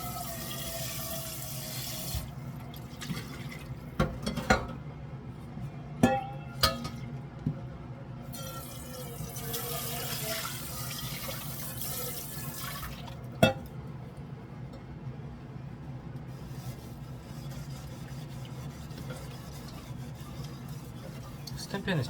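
Tap water runs steadily into a sink while a French pan is rinsed, with scattered clanks of metal against the basin and a few sharp knocks, all under ongoing talk.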